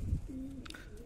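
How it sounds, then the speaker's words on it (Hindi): A female Madrasi pigeon on a rooftop gives a single soft, low coo, faint and close, after a brief thump, with no speech. "बहुत शानदार कबूतरी है वैसे तो।"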